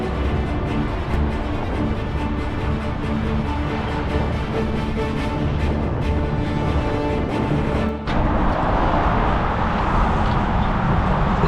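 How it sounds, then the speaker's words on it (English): Toyota Prius rolling along a road, heard from inside as a loud, continuous tire and road roar with a low engine hum, shifting in tone partway through. "Joys of driving a Prius."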